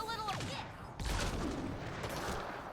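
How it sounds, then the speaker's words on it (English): A grenade blast and gunfire in Mass Effect Andromeda: rattling bursts of shots and a heavier boom about a second in, with sci-fi tones over sustained combat noise. "A grenade almost took out the shield."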